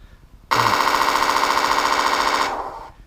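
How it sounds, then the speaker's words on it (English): A sound unit in a Torro M16 RC half-track fires a simulated machine gun burst: a loud, dense, continuous rattle that cuts in suddenly, holds steady for about two seconds, then tails off. "I prefer the idea of turning the machine guns on and off with a button"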